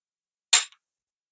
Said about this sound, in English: I wanted to do some trigger pulls to see what kind of trigger pulls I get from this with my gauge